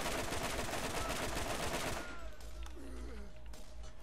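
Gunfire in the video game Borderlands: a dense, loud burst of rapid shots fills the opening two seconds, then gives way to quieter scattered in-game sounds and a faint whistling tone.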